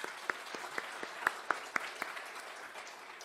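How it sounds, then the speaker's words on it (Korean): A church congregation applauds the choir after a Christmas performance, a steady wash of clapping with sharper individual claps standing out, fairly quiet and even throughout, with no voices. "우리 성가대한테도 박수 한번 쳐주십시오."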